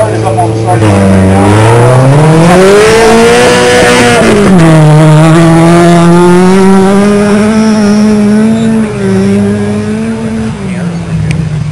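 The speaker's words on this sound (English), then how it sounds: "Anton Lesage is up on the starting line here with about 15 seconds to go." A rally car at the Oregon Trail Rally stage start holds a loud, close engine drone that rises and swells as it revs, a continuous roar sustained for the whole span.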